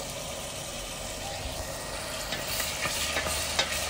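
Onions fry in a smoky pan while being stirred, with a steady close sizzle and scraping stir noises that grow busier toward the end.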